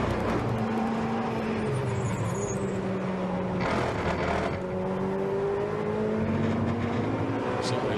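A Ferrari Challenge race car brakes going downhill at the Hungaroring circuit, its engine droning steadily with shifting pitch and a faint tire and air noise, heard from a distance under continuous track ambience.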